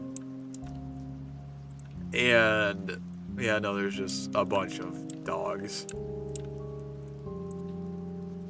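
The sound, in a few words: rain falling in the video game Minecraft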